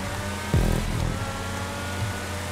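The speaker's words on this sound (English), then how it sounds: "You can hear the engine getting lagged down by the catch-up." Racing car engine in a racing video game, a brief loud thump followed by a low, droning engine note that sags and bogs down without rising, alone with no talk.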